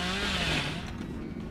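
Chainsaw revving in the game Dead by Daylight, a loud buzzing engine whine that rises then settles into a rough steady drone, close and continuous.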